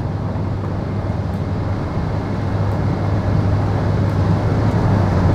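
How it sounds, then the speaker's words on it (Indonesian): Inside a Toyota Innova Reborn cruising a toll highway at around 140 km/h, a steady broadband cabin roar with faint wind hiss at the window glass, constant and unbroken, no voices. "Nah, 140 baru bunyi. Suara angin baru masuk tipis-tipis."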